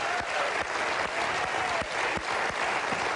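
Studio audience on Who Wants To Be A Millionaire breaks into steady applause, a full, even patter of many hands with a few sharper individual claps standing out.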